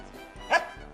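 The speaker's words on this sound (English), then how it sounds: "What he actually said there was Newton's third law of motion in dog" A trained dog gives a single short bark on command during a vet and pet show, close and fairly loud, briefly rising out of a quiet room.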